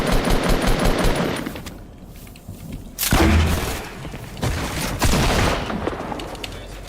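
Rocket launcher fire in a video game, several loud booming blasts and heavy impacts over a dense, continuous din of in-game combat.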